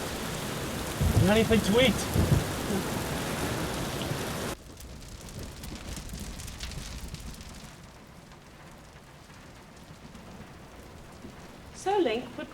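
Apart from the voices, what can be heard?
rain with thunder, film scene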